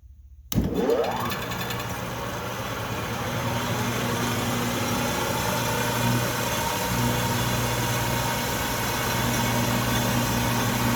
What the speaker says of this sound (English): The motor's not liking it.